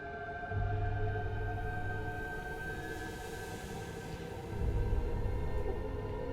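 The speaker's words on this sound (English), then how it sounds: "I'm loving the ambient white noise" Ambient white noise in a game: a low, steady hum and hiss with layered tonal drones, swelling slightly in the low end near the start and again later, faint and continuous with no voices.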